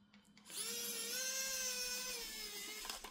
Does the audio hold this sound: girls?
no